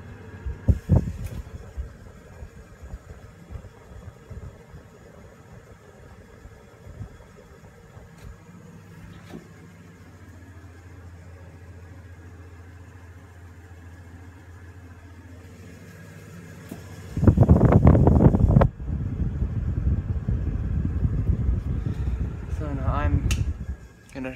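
A Rasonic window air conditioner runs in an old dining room with a low, steady hum and faint bearing whine, then a much louder, rougher surge of fan noise near the end.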